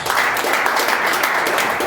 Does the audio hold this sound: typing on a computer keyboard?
no